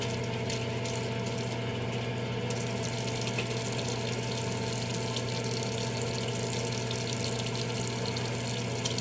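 Water running steadily from a tap during face washing, a constant close splashing hiss over a low pump-like hum, unbroken from start to finish with no talking.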